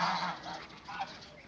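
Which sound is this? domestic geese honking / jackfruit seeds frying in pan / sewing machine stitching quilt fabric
domestic geese honking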